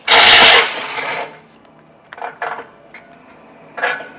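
A 16mm socket works loose the tow hook bolts on the underside of a vehicle, starting with a loud burst of ratcheting and clattering metal, then a few quieter scattered clicks and taps close by.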